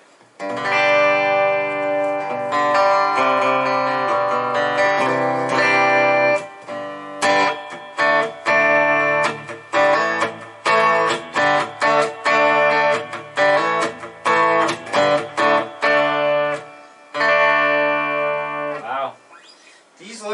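A clean Gretsch G5230LH Electromatic Jet electric guitar plays chords and single notes with a touch of reverb, in choppy phrases separated by brief pauses, loud and close.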